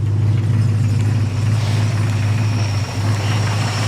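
V8 engine of a 1973 Plymouth Scamp flood car running steadily at a raised idle, a loud, close, continuous low rumble with a brief dip near the end and no talking.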